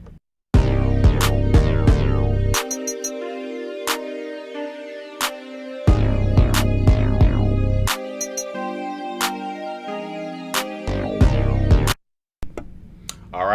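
Hip-hop beat with keyboard instruments playing chords over booming 808 bass and sharp percussion hits, loud and up front, dropping out briefly in spots before coming back in; no voices.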